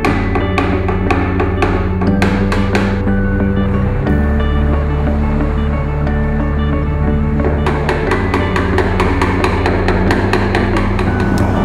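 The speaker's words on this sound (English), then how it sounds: "now I'm going to go ahead and straighten this thing back out by pushing on the back side." Repeated metallic tapping and pushing on a dented car body panel during paintless dent removal, with bursts of rapid, closely spaced knocks separated by steadier resonant hum, loud and close with no talking.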